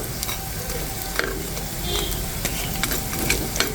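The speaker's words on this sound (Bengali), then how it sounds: "আর অল্প তেলেই কিন্তু একদম খুব সুন্দর করে ভাজা হচ্ছে।" Jackfruit pakora fries in a little oil with a constant close sizzle and scattered crackles and pops, bubbling steadily throughout with no voices.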